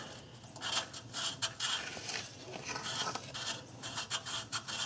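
An O2 sensor with copper anti-seize on its threads being screwed in by hand on a Ford Escape, giving close, steady gritty rasping and scraping in uneven strokes.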